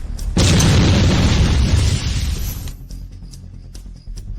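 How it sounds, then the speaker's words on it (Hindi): A single loud explosion bursts out suddenly, its roar holding for about two seconds and then rumbling away into a fading tail with faint crackles. "उससे दूर रहो। विस्फोट होगा।"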